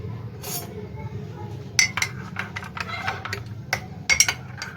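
A spoon stirs tea in a cup with a series of light, irregular clinks against the rim, close and fairly quiet, alongside low background noise and some speech.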